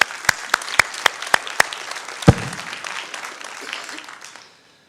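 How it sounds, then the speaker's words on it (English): Audience applause at a city's State of the City address, a dense wash of clapping with several sharp, louder claps standing out early, then tapering off and fading to silence near the end. "Let's give them a round of applause."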